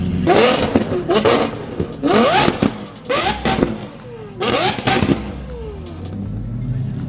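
A Lamborghini supercar engine revs hard in repeated bursts on a Mexico highway, pitch climbing and falling with each throttle blip, loud and close, with some muffled talk underneath.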